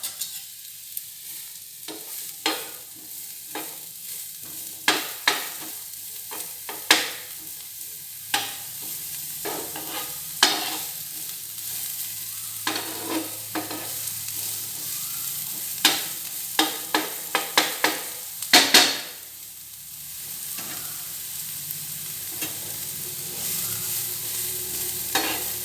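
Onions fry in a hot pan for masala egg fry, giving a soft continuous sizzle punctuated by frequent sharp spatula scrapes and clacks, close and with no voices.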